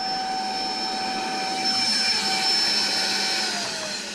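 A vacuum cleaner runs on a farm at harvest after falling and being lifted back up, giving a loud, steady whirring drone with a high motor whine that sags slightly in pitch near the end.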